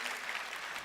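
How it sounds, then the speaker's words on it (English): A short burst of audience applause at an Nvidia CEO's keynote, a soft, even wash of many hands clapping from a distance, lasting under a second. "Hey, real applause."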